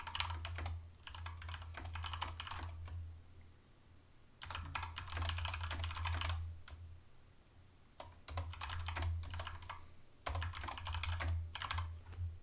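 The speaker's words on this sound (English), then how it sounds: "I'm just typing up this water." Computer keyboard typing in bursts of rapid, close clicking separated by short pauses over a steady low hum, with no voices.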